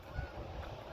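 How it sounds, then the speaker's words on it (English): Geese honking near a boat ramp by the water at night, a steady low noisy wash with a faint honk rising briefly, heard alone with no talking. "Can you hear the geese?"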